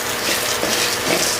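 Chicken chukka frying in a pan, a steady close sizzle and crackle with faint stirring scrapes, continuous and fairly loud with no voices.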